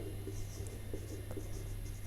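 Chalk or marker writing on a board in a classroom lesson, a few soft scratchy strokes in quick succession, close but faint against a steady background hum.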